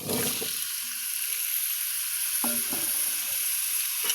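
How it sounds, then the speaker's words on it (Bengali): Vegetables hit hot oil in a wok, with a bright crackling sizzle throughout, close and steady, punctuated by a few short bubbling pops and splatters. "তারপরে আমি এই সবজিগুলো কড়াইতে ঢেলে দিলাম"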